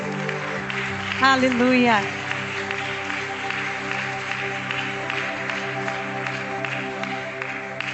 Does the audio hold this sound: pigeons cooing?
no